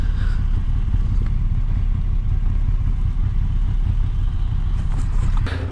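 A Moto Guzzi V85 TT motorcycle engine idles close by, a steady low throbbing rumble that holds even throughout with no talking.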